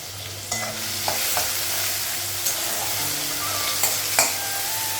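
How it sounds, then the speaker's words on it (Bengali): Fish frying in a kadai, a loud continuous close sizzle with occasional sharp taps and clinks of a spatula against the pan, no talking. "তো মাছটা ভাজা হয়ে গেছে।"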